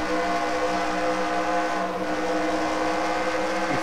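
Race car engine in a NASCAR video game easing off the throttle, a steady droning engine tone holding throughout with a slight dip midway, fairly loud and with no talking over it.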